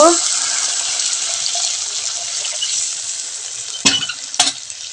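Water poured into a pan of frying spice masala, giving a loud burst of sizzling hiss that gradually settles, followed by a couple of sharp clinks of a utensil near the end.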